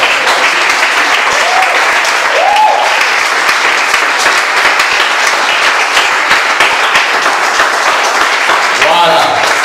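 A church congregation gives loud, sustained applause during worship, dense clapping filling the room steadily for several seconds, with voices and cheers mixed in.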